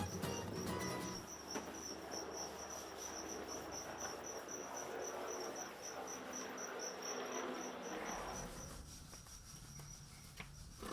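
Crickets kept for cooking into serundeng and peyek chirp together in a steady, continuous trill for several seconds. The chorus fades near the end, leaving low rumbling background noise.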